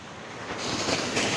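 Waves at Alleppey beach, a broad rushing surf that builds in loudness over the brief stretch, continuous and without talk.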